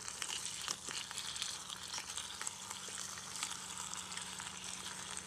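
Tallow rendering for candles sizzles and crackles steadily in a pot, a dense continuous frying hiss with scattered small pops, close and fairly quiet, with no one speaking.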